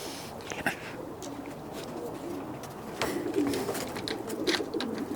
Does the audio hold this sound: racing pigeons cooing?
yes